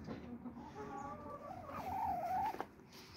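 A few soft clucks and a short rising squawk from a hen, fairly faint against a quiet outdoor morning background.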